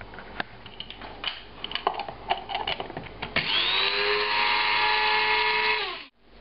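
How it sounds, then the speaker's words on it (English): Electric spice grinder whirring steadily for several seconds as it blends cumin seeds, smoked paprika and other spices into powder, starting after some light clattering and spinning down at the end. "these are all going to go into a spice grinder"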